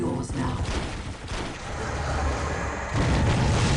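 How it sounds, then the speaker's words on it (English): Huge explosion in a Dawn of War battle between Orks and Eldar, a loud booming blast amid dense artillery-like gunfire and rumbling combat noise. "And a huge explosion as well."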